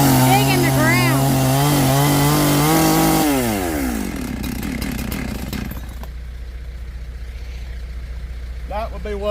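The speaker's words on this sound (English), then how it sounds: "Cut some of these knots off because when you drag them, then they dig in the ground." Chainsaw trimming knots off big logs on a steep hill, a loud close engine whine rising and falling through cuts before dropping to a lower idle, with a voice talking over it.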